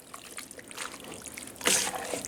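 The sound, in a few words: water poured into a pot of chili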